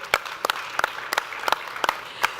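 An audience at a talk show panel taping about blockchain claps in a brief, sparse burst: about seven sharp, separate claps spread evenly over a couple of seconds, moderately close, with no voices over them.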